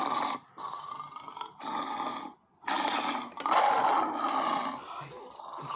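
A tiger roars in a series of loud, rough, growling bursts, about five of them separated by brief pauses, heard alone as part of a wild animal sound guessing game.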